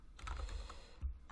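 Typing on a computer keyboard while coding a webpage in HTML: a quick burst of close key clicks followed by a brief pause and a single heavier keystroke, with no talk.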